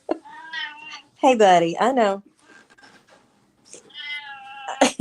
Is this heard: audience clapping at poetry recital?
no